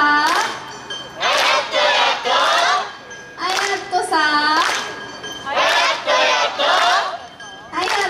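A crowd of festival dancers shouts back a rhythmic Japanese call-and-response chant at an outdoor music festival, several loud group bursts in a repeating pattern with short pauses between.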